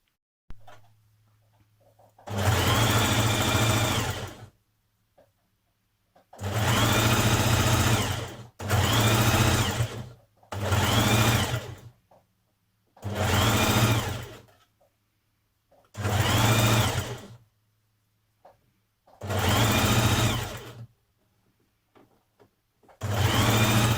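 A sewing machine top stitches a sweatshirt seam 7mm from the edge for a Burda 6315 pattern, running in about eight separate bursts of a few seconds each, with quiet pauses between.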